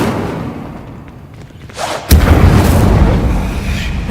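An Incendio fire spell goes off as a sudden booming burst about halfway through, followed by a sustained roaring rumble that fills the rest of the moment; no talking.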